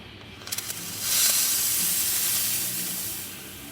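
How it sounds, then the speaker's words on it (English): A La Pavoni espresso machine, just back from a full tune-up, gives a few quick clicks before its steam wand opens into a loud, steady, close hiss that fades slowly over the last second. "let's test the steam"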